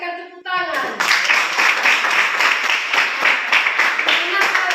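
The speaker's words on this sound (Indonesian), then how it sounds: "terima kasih Elrika, berikan tepuk tangan" Enthusiastic applause from a group, dense clapping that starts abruptly after a brief voice and continues steadily throughout.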